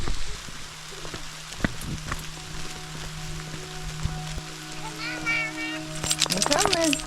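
Rain patters steadily outdoors in the Utah mountains, a soft hiss that runs throughout, with children's voices chattering near the end.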